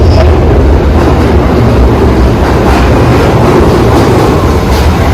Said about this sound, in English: Okay, this is train 1. We're not taking this train.